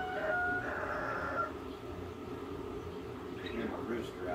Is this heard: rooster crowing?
yes